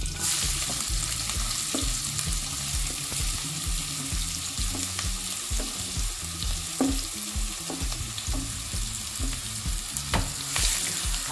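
Onions for a Malvani chicken curry fry in a pan over bay leaves, giving a continuous sizzle with rhythmic scraping and stirring strokes repeating every second or so, close up and without speech.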